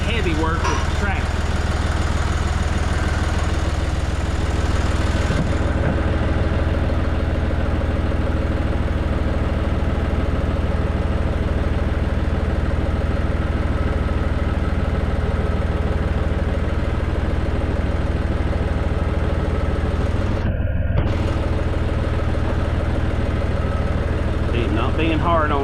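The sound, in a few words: tractor engine running while pulling equipment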